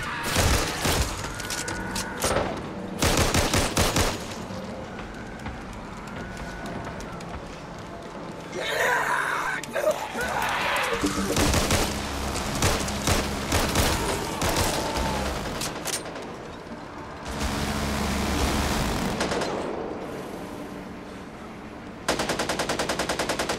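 Rapid video-game gunfire crackles in long automatic bursts broken by short pauses, with heavy thumps and a shattering crash mixed in; a player's voice talks over parts of the action.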